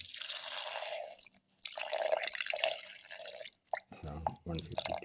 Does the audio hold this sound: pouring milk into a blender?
yes